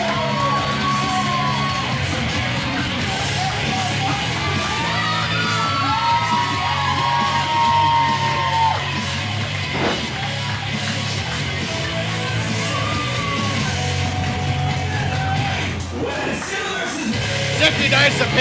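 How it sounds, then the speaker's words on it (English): A crowd at a Best of the West wrestling event in Merced, California yells and whoops for competitor Marcus Eriks, a steady roar of cheering running throughout under an announcer's voice, with a sharp bang near the middle. "You can hear this crowd loves them some Marcus Eriks"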